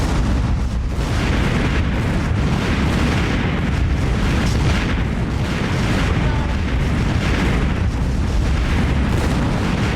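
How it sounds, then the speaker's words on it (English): Flak from anti-aircraft guns bursts around attacking aircraft in the naval warfare game Victory at Sea Atlantic, a dense, continuous barrage of loud booms and explosions with little pause, heard up close. "Oh, here comes the flak."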